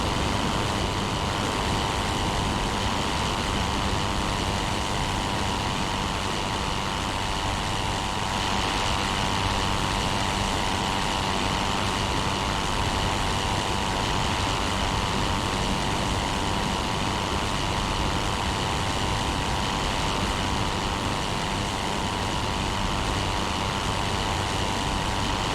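Fokker E.II engine in the flight combat game Rise of Flight, a steady, loud propeller drone with a constant rumbling tone running unbroken throughout, no voices over it.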